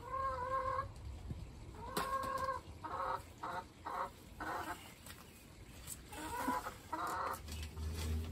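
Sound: hens clucking in the hen run

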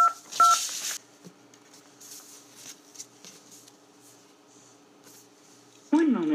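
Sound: touch-tone keypad dialing a phone number

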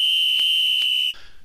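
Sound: station master blowing whistle

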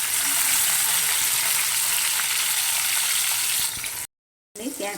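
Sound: chopped tomato sizzling as added to pan

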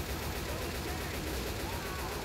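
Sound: gunfire shooting a tank in video game Left 4 Dead 2

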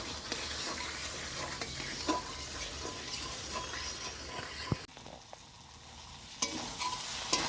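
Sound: frying and stirring spice paste for katla fish curry

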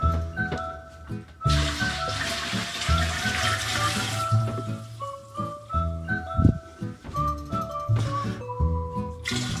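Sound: water filling stainless steel Apollo Titan for washing

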